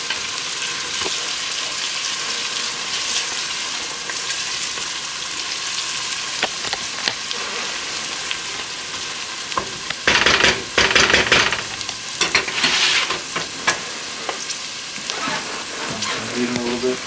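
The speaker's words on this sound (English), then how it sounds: "It's probably going to take like 6 or 7 minutes of stirring before they finally start getting that nice shade of golden brown." Food fries in a pan with a steady, close sizzle while a utensil stirs it, and louder scraping bursts of stirring come through in the middle stretch.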